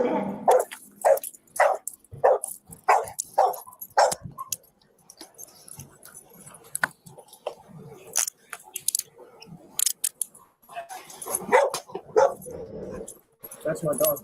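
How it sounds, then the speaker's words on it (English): A dog barks in a quick run of sharp yaps, then whimpers and whines more unevenly, with people talking over it. "Now the dog's upset."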